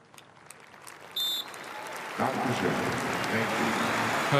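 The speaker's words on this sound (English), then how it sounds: "some fans breaking out into applause there" Football crowd applause rises at a Champions League match after a minute's silence, starting sparse and quiet, then swelling into broad, sustained clapping from a large stadium crowd.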